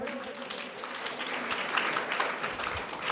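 An audience at a Shiv Jayanti lecture for students and parents claps steadily for about three seconds, a dense, even wash of hand-claps at moderate volume.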